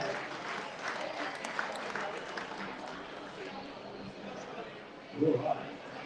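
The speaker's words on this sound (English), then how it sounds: "Big round of applause for Marlon, our speed demon." Audience applause for Marlon, the speed demon who won the Melbourne firefighter stair climb, with steady moderate clapping and a little crowd noise through the presentation. A voice cuts in briefly near the end.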